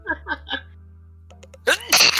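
A single sharp sneeze bursts out close by near the end, after a quiet stretch, with brief talk at the very start.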